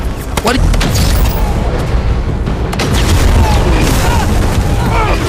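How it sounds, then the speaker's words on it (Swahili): Bombs explode in an action movie battle scene with US Army vehicles, heavy booms and bursts layered over a dense rumbling din, loud and continuous, with a voice talking over it. "Mabomu kulipuka hovyo."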